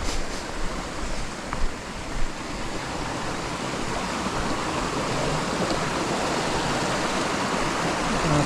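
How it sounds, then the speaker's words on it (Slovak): A small mountain stream on Kriváň in the High Tatras flows in a steady, continuous rushing wash, close and even, with a few faint knocks early on. "Máme tu krásny potôčik."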